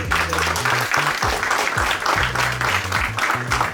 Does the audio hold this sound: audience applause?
yes